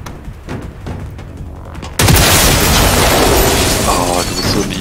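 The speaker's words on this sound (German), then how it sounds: "Da explodiert doch gleich wieder alles" A sudden loud blast of explosions in the video game Generation Zero bursts in after quieter background sound, followed by sustained crackling, rumbling chaos.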